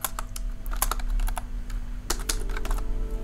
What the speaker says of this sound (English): Now type in your name on the keyboard.